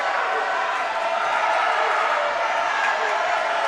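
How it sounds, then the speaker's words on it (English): Home crowd noise fills a high school basketball championship gym during a free throw in the Fillmore Central vs Milford game, a steady, loud wash of voices and murmur with no distinct bursts. "Panther crowd is right in his ear."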